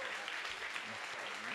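Brief, dense applause from a live audience at a book fair stage greets actor Lázaro Ramos, sounding steady and somewhat distant with voices mixed in.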